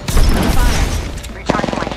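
Rapid automatic gunfire in a PS5 battle royale match with Valkyrie, loud bursts of shots up close, then a short pause and a second burst of separate cracks, with voices talking over the shooting.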